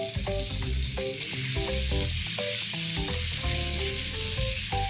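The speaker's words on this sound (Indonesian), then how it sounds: "Tumis bareng sampai jamurnya berubah warna." Mushrooms and spinach sautéing in a pan for a breakfast tortilla wrap, a steady bright sizzle running under loud tonal music throughout, with no talk.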